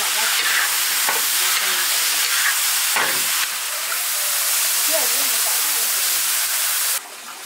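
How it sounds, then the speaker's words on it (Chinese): Pickled cabbage (suancai) stir-frying in a hot wok in a rural kitchen, a steady loud sizzle and hiss with occasional scraping stirs, continuous throughout. "酸菜弄来炒香"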